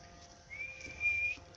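A person with no teeth whistles a short, thin, rising-and-held note imitating the dawn chorus of birdsong, faint and brief against a quiet room.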